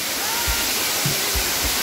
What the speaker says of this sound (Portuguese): Cachoeira vem lá de cima, cai aqui, forma um cânion.